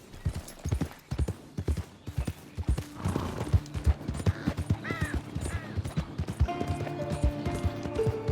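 Horse hooves gallop in a rapid, steady clip-clop through Red Dead Redemption II, close and clear, with a brief whinny midway and ambient game sounds rising near the end.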